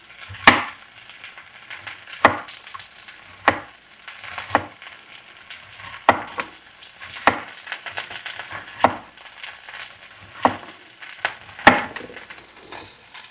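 Thinly sliced onion fries with meat in a pan: a soft continuous sizzle broken by regular sharp clacks and scrapes roughly every second, with no talking.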